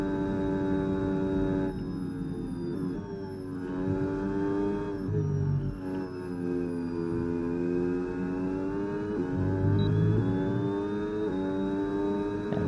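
A Formula 1 race car engine from the video game F1 26 revs high and loud, its pitch climbing and dropping through gear shifts with no talk over it.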